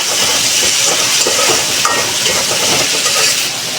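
Spices for fish-head muri ghonto sizzle and hiss in a hot pan while being stirred, with steady frying crackle and occasional scrape of a utensil, close and loud with no talk.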